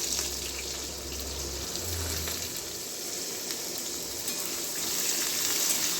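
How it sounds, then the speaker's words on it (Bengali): Two sliced onions lightly frying in a pan in a village-style kitchen, a steady soft sizzle with a low hum underneath, moderately close and alone without talk. "এবার আমি পেঁয়াজটাকে হালকা করে ভেজে নেব।"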